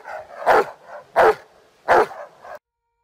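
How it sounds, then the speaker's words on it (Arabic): A large pit bull barks three times, loud and close, with deep evenly spaced barks followed by a short fourth yip, then silence. "عن الكلب هالك، الوحش المدمر وأضخم كلب بيتبول في العالم"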